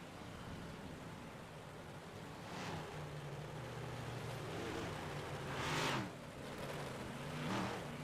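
Big block modified race cars circle a track as a distant roaring wash, with engine drones swelling as cars pass by.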